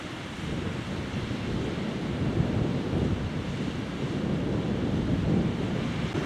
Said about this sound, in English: I'm enjoying a northerly northeasterly wind